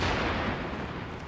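A grenade detonates in the video game The Division, a short loud boomy blast with broad rumbling noise filling the whole moment, no talking over it.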